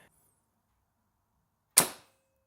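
A single sharp shot from a Novritsch SSG10 airsoft rifle fitted with an air brake, one brief close crack with a short decaying tail amid near silence.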